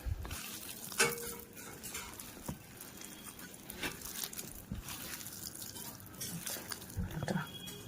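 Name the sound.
mashing boiled potato with chilli for fuchka filling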